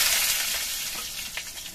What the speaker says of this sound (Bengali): প্রথমে এই আলুগুলো ভেজে নিচ্ছি।